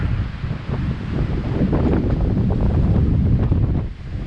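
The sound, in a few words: wind whipping across a mountain summit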